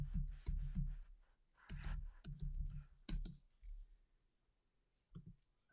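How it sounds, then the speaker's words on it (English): Typing on a computer keyboard, close and fairly quiet: short runs of key clicks and taps come in bursts, with pauses between them, and the sound fades toward the end. "let me type it here into the chat"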